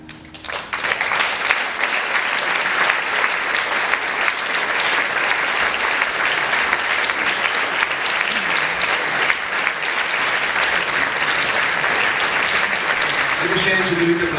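A large audience applauds at a municipal holiday celebration in Ljutomer, dense sustained clapping filling the hall without letup, with a faint voice emerging near the end.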